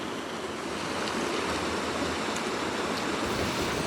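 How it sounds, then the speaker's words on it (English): A river carrying ice flows past in a steady, broadband rush of water, loud and continuous throughout with no voices. "you can still see a lot of the ice and stuff flowing around here in the river."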